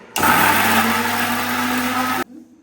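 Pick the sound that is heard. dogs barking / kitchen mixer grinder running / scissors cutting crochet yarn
kitchen mixer grinder running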